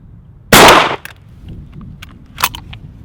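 A single loud shotgun blast from a 3.5 inch BB waterfowl load through a Kicks High Flyer choke at 30 yards, a sharp broadband crack that decays within half a second, followed by faint outdoor ambience and a smaller pop.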